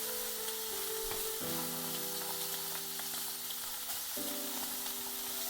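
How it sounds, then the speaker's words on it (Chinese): A pancake of minced meat, potato and beaten egg fries over low heat in an oiled pan, a steady even sizzle with a faint low hum beneath it. "小火给它煎5分钟。"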